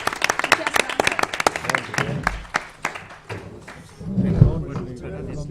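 Applause from the audience at the AISOC 2017 international seminar, with sharp individual claps that start crisp and close, then thin out into scattered clapping and murmuring voices.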